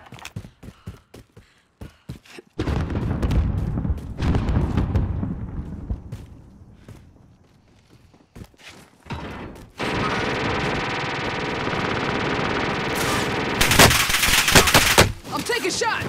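Warzone video game gunfire: a few sharp isolated shots at first, then sustained bursts of automatic fire and explosions, loud and dense, with voices talking over parts of it.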